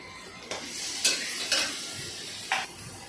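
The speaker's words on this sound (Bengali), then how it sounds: "একটু হলুদ হলুদ করে ভেজে নিচ্ছে চিংড়িটাকে পুরো।" Shrimp frying in a pan until golden, a steady close sizzle broken by a few brief stirring scrapes spaced about half a second apart, with no voices.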